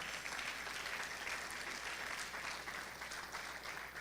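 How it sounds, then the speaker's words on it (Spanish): A church congregation applauding during a sermon, a dense, sustained wash of many hands clapping at a distance, steady throughout with no voices standing out. "Dale ese aplauso fuerte al Señor."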